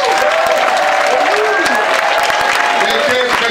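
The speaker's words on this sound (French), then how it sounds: "Est-ce que nous pouvons acclamer le Seigneur?" A church congregation applauds to acclaim the Lord, with a steady wash of clapping and crowd noise and voices speaking over it throughout.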